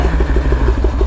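A hand-built 5000cc V-twin motorcycle engine runs close up, a deep rhythmic low thudding pulse with regular firing beats throughout the short stretch, no voices.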